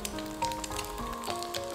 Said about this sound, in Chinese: 一直把我们的鸡蛋给它煎至两面金黄